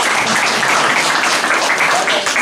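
Strong applause from an audience welcoming a choir and its director, loud and continuous, with faint voices mixed beneath the clapping.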